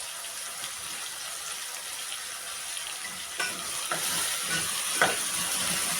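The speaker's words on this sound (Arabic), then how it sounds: "نبدأ نقلب فيها لحد ما تفك كلها من بعضها." Ground meat seasoned with salt and pepper sizzles in a pan while a utensil stirs and breaks it apart, the frying growing louder and busier partway through, with scraping stirs near the end.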